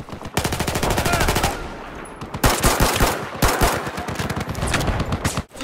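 Rapid bursts of pistol fire from Battlefield 4 gameplay crack out in quick strings, loud and close, with short pauses between volleys.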